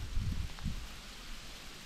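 Hail and ice pellets rattle on a roof during a brief passing spring shower, a dense low patter with a few louder bursts at the start that settles into a steady, moderate drumming.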